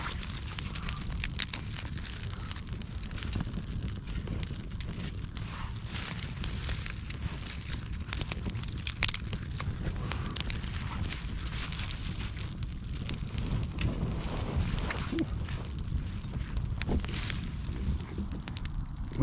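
Campfire of birch and beech twigs burning outdoors in freezing weather, with a steady low roar and scattered sharp crackles and pops close by.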